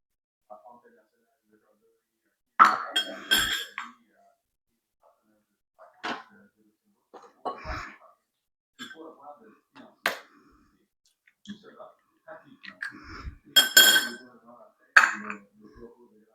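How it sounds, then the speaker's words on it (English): Three eggs cracked one after another into a mixing bowl for an almond cake, giving sharp close taps and clicks with short wet splats, spaced out over quiet pauses. "I'm gonna break my 3 eggs into my bowl"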